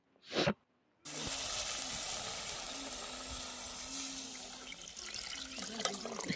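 A short splash, then a steady pour of water into a simmering pot of amti curry, with bubbling and sizzling continuing underneath.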